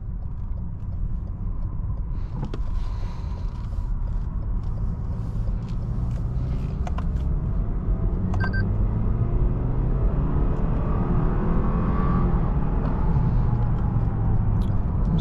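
A 2016 Lexus RC 200t accelerating, heard from inside the cabin as a steady low engine and road rumble with a slight rising tone near the end, no talk.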